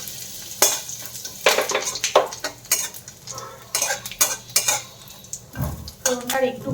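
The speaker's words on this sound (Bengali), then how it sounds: "তেলটা একটু গরম হয়ে এলে ফোড়নটা দিয়ে দেবো" Whole spices crackling in hot oil as a Bengali tempering for soybean pulao, with loud clinks of a metal spoon stirring against the pot and a faint sizzle underneath, no voices.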